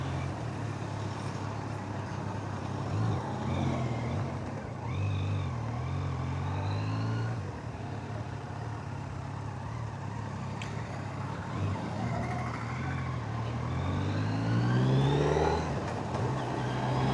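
A 2025 Kawasaki Z900 motorcycle climbs uphill on a road toward the hills, its engine droning steadily up close with rising revs and gear changes, overlaid by continuous wind rush.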